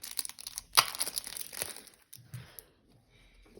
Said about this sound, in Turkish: Şimdi ikinci kartımızı açıyoruz